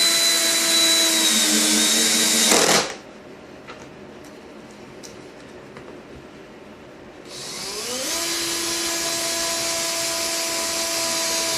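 A power drill drives screws into a subwoofer cabinet while fitting pop-in casters: a loud high whine runs for a few seconds, stops through a quieter stretch, then starts again and ramps up into another sustained whir.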